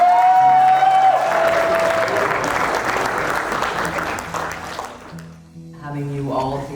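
Wedding guests burst into loud applause and cheering for the best man, the clapping sustained for several seconds, fading as a voice talks near the end.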